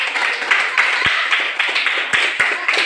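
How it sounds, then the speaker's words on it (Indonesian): A small group in a teacher training class claps hands together, a brisk, close run of overlapping claps with a few sharp taps standing out, fairly loud and steady without talk. "Oke, tepuk tangan."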